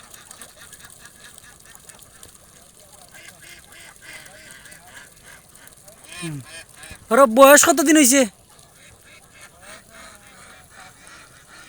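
Egg-laying ducks on a farm give a short burst of loud, harsh quacking midway, with quieter fowl calls and a person speaking around them.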